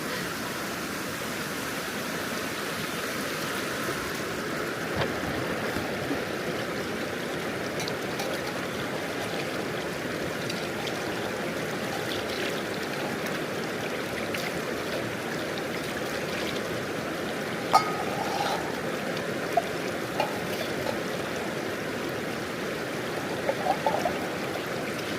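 A river stream flows steadily near Lata Kashmir in Jeli, a constant broadband rush of water with a few faint clinks in the background and no talking.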